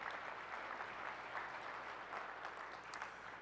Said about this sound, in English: So big a round of applause to the ChannelAdvisor folks.